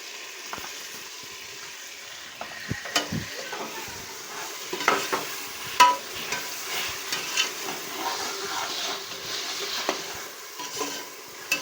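Ginger and garlic paste frying in a pan while cooking biryani, a soft steady sizzle broken by repeated stirring scrapes and utensil taps, close and moderately quiet, with no talking.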